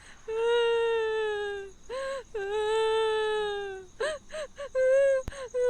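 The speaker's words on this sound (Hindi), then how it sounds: "उसे किसी औरत के रोने की आवाज़ आती है" A woman cries and wails in a horror story, long drawn-out sobbing tones broken by shorter gasping whimpers, close and clear over a quiet background.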